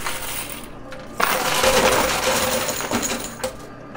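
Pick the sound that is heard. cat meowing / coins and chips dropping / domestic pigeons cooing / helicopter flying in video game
coins and chips dropping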